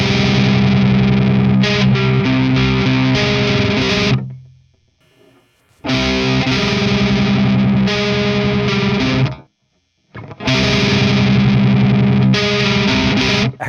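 Electric guitar through a budget amp with heavy distortion and effects, loud sustained chords ringing in three long passages separated by sudden cuts to near silence, notes breaking up as they decay.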